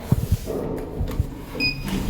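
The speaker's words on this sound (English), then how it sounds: "Doors opening." Shopping centre lift doors opening, a few thuds and clunks over a low rumble, ending with a two-tone chime, close and fairly loud.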